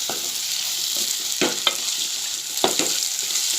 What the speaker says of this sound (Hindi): हम बोम्बिल को थोड़े टाइम तक इसी में फ्राई करेंगे